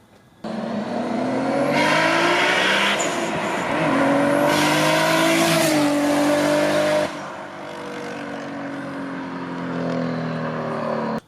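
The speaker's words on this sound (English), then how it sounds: "why did you downgrade from twin turbo to single turbo? This is why." A single-turbo Nissan Skyline GTR engine revs hard and close, rising and falling through several loud pulls with turbo whoosh over roughly ten seconds, with no talking.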